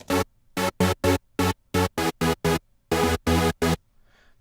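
Bright, harmonically dense synth stabs from a Serum saw-wave patch with seven to nine unison voices for a big EDM supersaw, played as a rhythmic sequence of about fourteen short, evenly gated chords, loud and clean with silence between hits.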